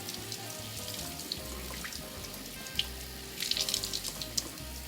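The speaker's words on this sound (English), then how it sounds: "Then under running cold water, you're going to go ahead and rinse the sauerkraut." Cold tap water runs over sauerkraut held in a sieve at a sink, a steady splashing rush with scattered drips and patters, near and continuous, with no talking.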